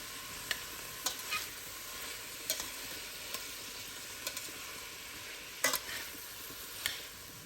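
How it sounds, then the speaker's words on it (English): Garlic and vegetables sizzle in a pot for tortilla soup, a steady frying hiss broken by several sharp utensil clinks and scrapes as the mixture is stirred, close and moderately loud, no voices. "Just throw in the garlic and let the vegetables start to cook down nicely."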